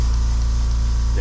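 An air compressor runs in a workshop, a loud steady motor hum with a rapid pulsing throb, continuous and close for a brief moment.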